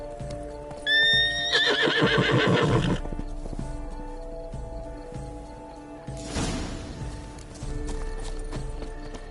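A horse in the video game Witcher 3 gives a loud, rising whinny near the start, then hooves clip-clop and snort amid ambient game sounds, with another burst of movement later.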